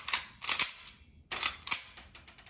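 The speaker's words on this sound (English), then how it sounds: "First, let the slide forward and you can rack the gun a few times." The slide of a gas blowback airsoft pistol is racked several times, giving sharp, close metallic clacks in quick pairs with a brief pause between, alone with no voices.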